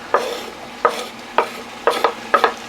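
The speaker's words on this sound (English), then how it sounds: "You're just going to let this cook until your onions are starting to get tender." Ground deer meat with canned green chilies and chopped onion cooks in a pan, with five or six sharp scraping stirs over a low, steady sizzle, close and alone without talk.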